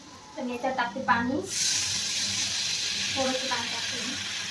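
Water is poured into a hot pan for Maggi noodles, setting off a sudden loud hiss that settles into a steady sizzle, while someone talks nearby before and during it.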